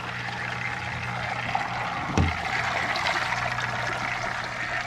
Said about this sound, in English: Now that our filter is full, plug in the pump